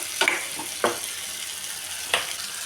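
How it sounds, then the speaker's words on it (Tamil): Turkey berries sauté in oil with tomato gravy, a soft, steady sizzle broken by three sharp clinks of a spoon stirring the pan up close. "நல்லா எண்ணெயிலேயே நல்லா வதங்கட்டும் நல்லா ஊற்றி தான் நான் வதக்குறேன்"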